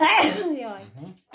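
One loud, close sneeze bursts out in a home kitchen during pizza-roll making, immediately followed by a short spoken exclamation.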